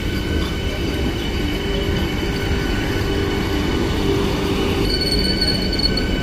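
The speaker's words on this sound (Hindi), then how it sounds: "ये क्या इतिहास में पहली बार वंदे भारत कठुआ रेलवे स्टेशन पे रुकने जा रही है।" Vande Bharat Express semi-high-speed train at Kathua railway station, a loud continuous rumble of rolling wagons with steady wheel noise and a faint high squeal near the end, no talking.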